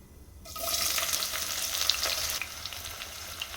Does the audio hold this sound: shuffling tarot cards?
no